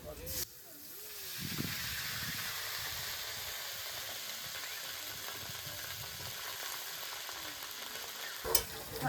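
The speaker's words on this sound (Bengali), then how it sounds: "আদা বাটা দিয়ে দিচ্ছি তেলে ভালো করে ভাজতে হবে" Ginger paste hits hot oil and fries with a loud, sustained sizzling hiss that holds steady, broken by a few spoon scrapes and clinks near the start and end.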